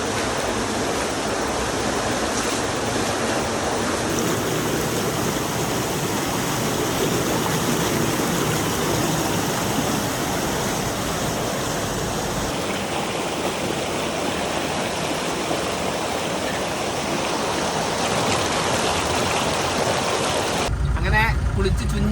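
Steady rush of river water flowing beneath a bridge in Nepal where someone is bathing in the stream, a loud continuous broadband wash that fills the whole clip with no speech.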